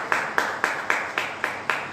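Congregation in a church service clapping for the Lord, seven sharp, evenly spaced claps in a steady rhythm, close and fairly loud with a short ringing tail after each.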